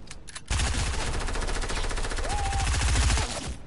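Gunfire in a sniper video game, a loud rapid string of close shots starting abruptly and running for about three seconds before cutting off.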